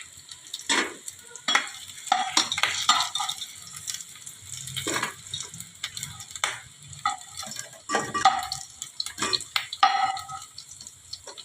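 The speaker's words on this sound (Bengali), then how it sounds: "আমার এই সয়াবিনগুলো ভাজা হয়ে গেছে।" Soybean chunks sizzle and crackle in hot oil as they are stirred in a pan, with irregular bursts of frying noise and scraping, moderately quiet and close.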